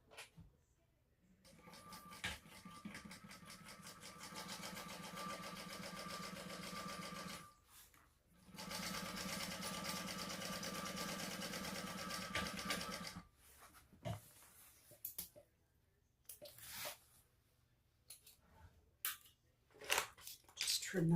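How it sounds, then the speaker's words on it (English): A sewing machine stitches the seam of a fabric sling bag in two long steady runs of rapid needle clatter, pausing briefly between them, then falling to scattered handling noises near the end. "so we're just going to sew that."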